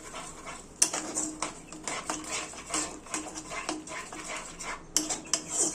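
A fish roe mixture with yogurt being stirred and sautéed in a pan over low flame: repeated close scraping and clinking of a utensil against the pan, irregular and moderately loud, with no talking.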